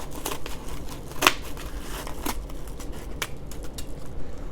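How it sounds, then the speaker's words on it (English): A handful of sharp snips from kitchen scissors cutting open a package, spaced irregularly, with crinkly rustling of packaging in between, close by and fairly loud. "I got the trusty kitchen scissors."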